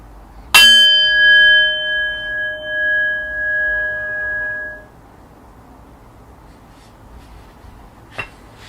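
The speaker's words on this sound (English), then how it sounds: "in just a moment I will ring the bell, ending our first round of meditation" A meditation bell struck once to close a round of sitting, ringing out loud and clear and then fading slowly over about four seconds into near silence.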